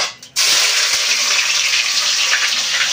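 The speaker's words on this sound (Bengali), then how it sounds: "এটা গরম হয়ে গেছে, এবারে একে একে সব ভেজে নেব" Winter vegetables such as beans and capsicum hit a hot pan for vegetarian fried rice, setting off a sudden loud hiss that settles into a steady, close sizzle.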